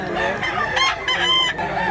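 A big year-old rooster with grey and pumpkin-coloured feathers clucks in quick, close, loud bursts, with several calls running together over a short stretch.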